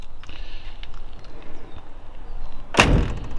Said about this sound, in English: Doors shut nice